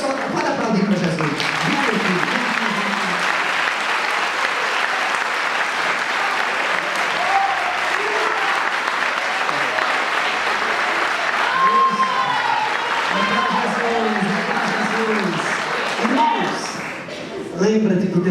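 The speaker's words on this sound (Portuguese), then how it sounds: "Pode aplaudir para Jesus." A church congregation applauds at an Assembly of God 63rd anniversary celebration, sustained dense clapping that fills the hall for many seconds, with voices and cheering mixed in throughout.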